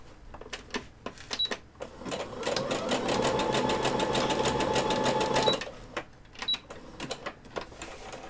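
A sewing machine stitching fabric, starting with short bursts of rapid needle clatter, then a sustained steady whirring run of several seconds, followed by more brief stop-start stitching, close and clear.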